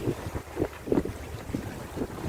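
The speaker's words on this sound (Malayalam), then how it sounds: "കാറ്റ് നന്നായിട്ട് അടിക്കുന്നുണ്ടോണ്ട് വലിയ സീനില്ല" Strong wind gusts at the waterside of a mangrove fishing spot in Kerala, buffeting close and loud in uneven rushing bursts over a constant low roar.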